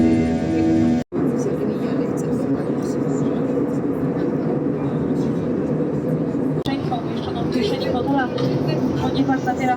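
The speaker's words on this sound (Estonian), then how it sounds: "See lennuks on mingi täiesti imelik hääl." Steady loud drone of a passenger airplane cabin in flight, with a broad rumbling roar throughout, briefly cut once near the start, reported as an unusual strange noise; faint voices murmur underneath.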